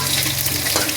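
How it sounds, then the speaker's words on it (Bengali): Potatoes fry in hot oil in a pan, a steady close-up sizzle and crackle with no voices. "প্রথমে আলু কটা ভেজে নিচ্ছি"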